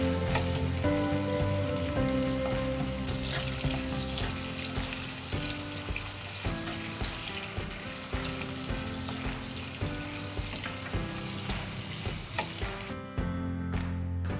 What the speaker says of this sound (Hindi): फिर टमाटर का पेस्ट डालकर इसे अच्छे से भून लेंगे।